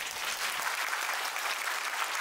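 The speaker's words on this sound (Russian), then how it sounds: "еще раз громче аплодисменты" A hall full of people applauds at a festive concert opening the Year of the Family in Yar-Sale, a dense, steady wash of clapping that stays loud and even throughout.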